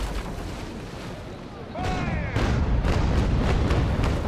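Cannon fire from a sailing warship in the video game Naval Action: after a quieter lead-in, a broadside opens with a rapid string of heavy booms that grows loud and rolls on.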